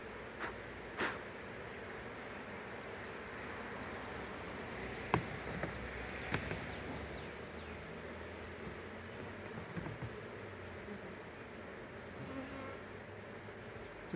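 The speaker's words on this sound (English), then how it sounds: "Too many bees there." Honey bees buzzing around an opened hive during a honey harvest, a faint, steady drone close by with a few sharp knocks and clicks from handling the equipment.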